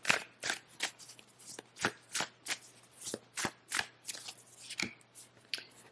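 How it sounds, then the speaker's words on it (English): Oracle cards being shuffled by hand, a rapid series of crisp riffling bursts repeating in a steady rhythm, close and clear, with no talking. "I do want to pull some oracle cards here just to get a little bit more."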